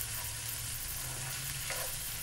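Leftover cooked rice frying in a pan with mushrooms, a steady close, even sizzle and crackle holding constant throughout with a faint stirring scrape near the end.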